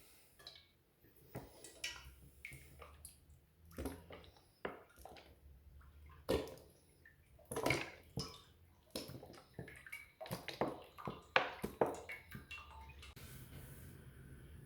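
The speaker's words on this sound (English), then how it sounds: "just going to add the oil to the deep dish pan." Cooking oil is poured into a deep dish pan for frying beer-battered fish, producing quiet, irregular glugs and splashes that come in uneven bursts, close by and otherwise fairly still.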